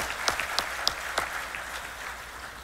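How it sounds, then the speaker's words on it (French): Audience applause at a master class, a few sharp, distinct claps standing out at the start over a steady bed of clapping that gradually eases. "on peut les applaudir"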